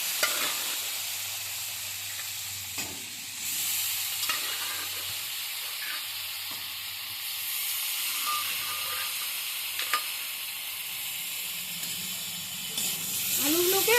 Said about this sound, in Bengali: এবার আমি সিদ্ধ করে রাখা আলুগুলো দিয়ে দিচ্ছি।